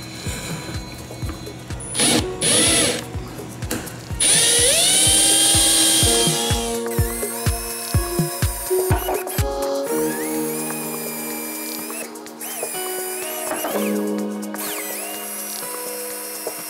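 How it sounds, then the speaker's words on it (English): Power drill boring pilot holes for a Ford factory fifth-wheel/gooseneck hitch prep install, a close whine that spins up, rises and falls through several runs with rhythmic knocks and short pauses between bursts. "I think what I'll do is I'll do some pilot holes, including that center one"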